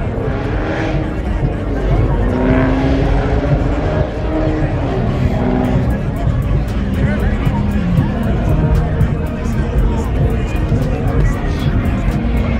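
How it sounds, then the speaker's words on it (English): A loud crowd at an outdoor Miami car stunt event chatters and shouts continuously, with engine rumble and traffic noise mixed into the steady din. "Man, these folks so loud out here"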